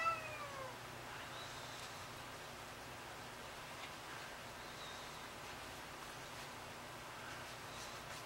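A pet cat meows faintly a few times at home while kneading, the calls thin and soft over a steady background hiss.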